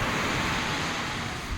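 Sea waves wash onto a sandy beach in Netanya, a steady broadband rush of surf heard up close, with no talk.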